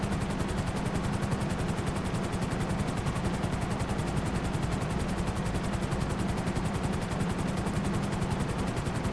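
Steady helicopter rotor drone from a video game, loud and continuous with rapid chopping pulses throughout, no talk over it.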